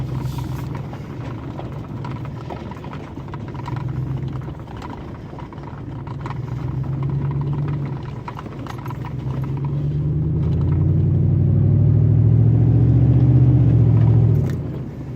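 A pickup truck engine rumbles steadily from inside the cab during a drive, its low drone rising and growing louder toward the end as the truck accelerates, then easing off.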